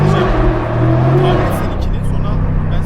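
A tuned BMW M5 CS with G-Power upgrades, rated around 800 horsepower, revs steadily in second gear while its rear wheels spin and slide. Its engine drone is loud and continuous, with a shift in pitch partway through.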